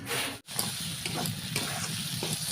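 Cabbage and mung dal fry in a pan with a steady, close sizzle and hiss, broken by a brief dropout and a few soft stirring scrapes.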